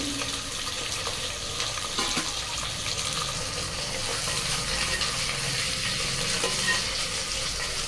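Chopped onions sautéing for a Madras masala beef curry gravy, a steady broadband sizzle with faint scraping of a stirring spoon, close and continuous with no voices.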